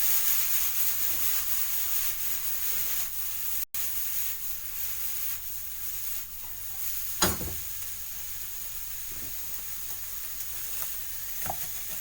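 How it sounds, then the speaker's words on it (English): A pot of perpetual stew loaded with celery being stirred, with a steady simmering hiss and a few soft scraping strokes, no talk. "Let me stir it around."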